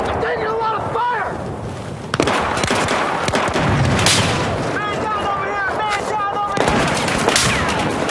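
Gunfire and explosions during a Battlefield 4 match, heavy rapid shots and booms layered under an excited player's voice and in-game radio chatter.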